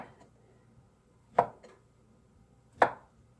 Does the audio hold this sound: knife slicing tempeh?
yes